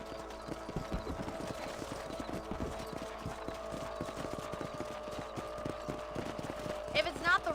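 A horse clip-clops at a steady trot in Red Dead Redemption, hoofbeats close and rhythmic under a faint game ambience, with a brief jingly flourish near the end.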